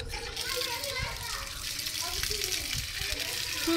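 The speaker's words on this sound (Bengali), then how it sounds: "আর এখানে জল আছে, নলও লাগানো আছে" Water runs from a tap at a temple, a faint steady splash under children's chatter and a nearby voice talking throughout.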